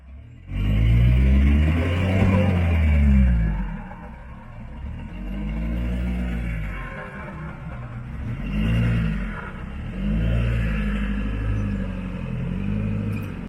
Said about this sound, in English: Let me show you a little more the sort of driving I have predominantly done with my Jeep and the BFG KM3 in 37-inch.